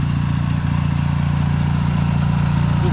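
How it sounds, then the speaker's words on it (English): A mini-tractor engine idles steadily with a low, even rumble, continuous and fairly close throughout, with no talk. "Listen to the engine purr."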